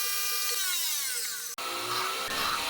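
A high-pitched drill whines as it bites into metal, drilling holes for an engine intake manifold part, its pitch sweeping, then a sharp stop and the motor spinning again.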